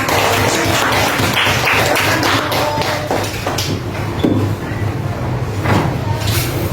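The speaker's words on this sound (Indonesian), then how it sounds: "Beri tepuk tangan untuk kelompok 1." A loud, continuous round of hand clapping from a class of students in a classroom, dense and slightly uneven with thumps and knocks mixed in, sustained for several seconds.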